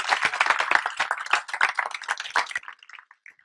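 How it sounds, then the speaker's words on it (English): An audience at a Mindscape 2014 talk claps to welcome a speaker, a burst of crisp handclaps that thins out after a couple of seconds into a few scattered final claps. "Please welcome her with a round of applause."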